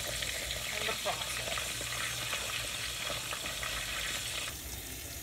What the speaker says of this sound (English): Here's some sauteed onions, green pepper, red peppers, and chuleta in the process.